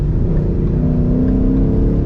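A loud, deep Ford Mustang GT 5.0 V8 engine with Corsa Xtreme axle-back exhaust rumbling steadily close by, its pitch rising slightly as it revs.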